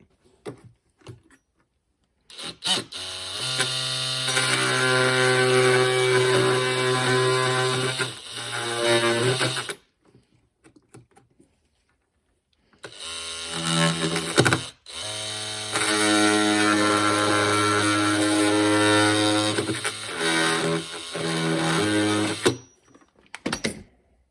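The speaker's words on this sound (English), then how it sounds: "So oscillating tool is a great tool for that" An oscillating multi-tool fitted with a Japanese-tooth blade trims wood, a loud buzzing drone in two long sustained runs with a pause between, close and without talk.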